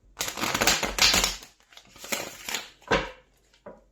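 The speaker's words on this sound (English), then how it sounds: "These cards are taking a bit of difficulty to shuffle." Tarot cards are shuffled with some difficulty, giving close, bursty riffling and slapping noises in uneven spurts with short pauses between, heard alone without talk.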